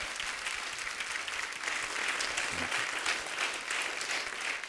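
A studio audience at a television comedy show claps for the performers, dense sustained applause that swells slightly in the middle and carries on steadily throughout, loud and full with no voices over it.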